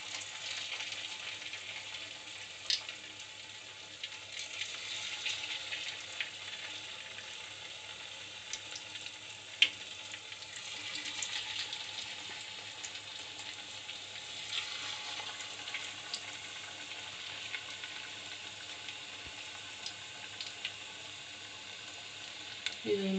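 Chicken pokkavada, dropped as loose batter into hot oil for a tasty evening snack, deep-fries with a faint, steady bubbling sizzle throughout and a few scattered small clicks.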